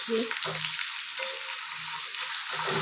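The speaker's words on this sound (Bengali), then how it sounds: "লাল করে আলুগুলো ভেজে নিচ্ছি" Potatoes fry in a pan for a vegetarian new-potato curry (aloo dum), giving a steady close hiss and sizzle with a few low tonal hums from the stove or pan.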